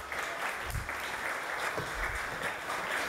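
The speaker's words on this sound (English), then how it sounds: "Can you give him a big round of applause as I put him down to sleep?" Steady applause from a church congregation during a community service, a dense even wash of clapping that holds for the whole stretch at moderate volume.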